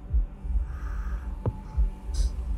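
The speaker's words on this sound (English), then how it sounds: "It's a thumper." A thumper device pulses in Dune (2021): a deep, throbbing beat repeats in a slow rhythm over a low rumbling hum, with one sharper thud in the middle.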